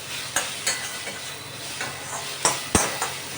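Curry spices fry in a pan with a soft steady sizzle while a spatula scrapes and knocks against the metal in a handful of sharp, uneven strokes, close by and without talk.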